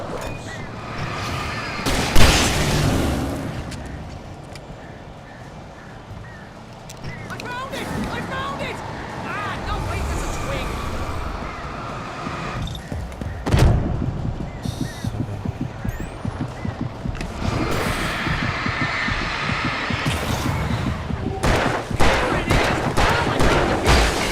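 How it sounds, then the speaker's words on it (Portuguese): Enemy gunfire in the horror video game Alan Wake, a series of sharp shots and bursts scattered over a steady ambient game background, with a loud crack early on and more rapid firing toward the end, while a voice talks over it. "Esse cara tá atirando também, velho"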